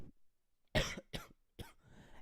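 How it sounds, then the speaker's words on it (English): A person coughs several times in quick succession, close and loud, after a brief quiet pause. "I really hate coughing"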